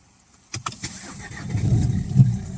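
A Renault Megane 3 diesel engine cranks with a few sharp starter clicks, then catches and settles into a loud, close, rumbling idle.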